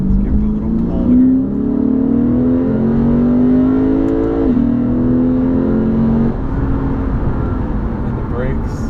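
A 2015 Lexus RC F pulling hard under acceleration, its engine note rising steadily in pitch through the rev range, briefly dropping at a shift, then climbing again, loud and close from inside the cabin.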